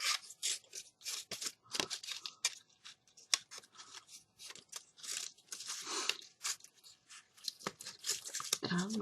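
Scissors snipping and tearing paper while crafting a rolled paper rose, a run of close, crisp cuts and rips in irregular bursts, fairly quiet, with no speech over them.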